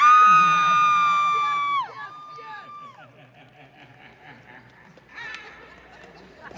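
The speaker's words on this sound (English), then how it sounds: "hold your applause real quick" A convention panel audience erupts in loud shrill cheering and whooping that swoops down and fades into scattered crowd chatter, with a brief burst of noise near the end.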